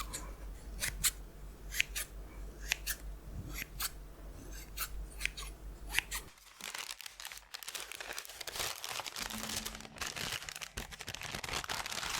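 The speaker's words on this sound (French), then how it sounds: "Une paire de ciseaux." A pair of scissors handled in a home kitchen while making sablé biscuits, giving a run of crisp, close metallic snips and clicks, followed by softer rustling and handling noises.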